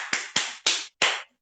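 Four sharp, evenly spaced claps from a church congregation applauding, crisp and close, each with a brief decaying tail, before a short silence.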